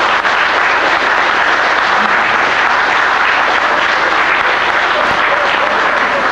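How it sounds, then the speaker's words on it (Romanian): Sustained applause from a concert audience at an anniversary folk music celebration in Voloca, a dense, steady wash of clapping filling the whole stretch, loud and continuous without a break. "Vreau acum să vă aplaudați atât pe maestru, cât și pe toți tinerii care fac."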